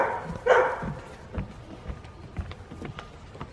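A dog barks and whimpers up close in short, uneven bursts: one loud yelp near the start, then softer whines and yips.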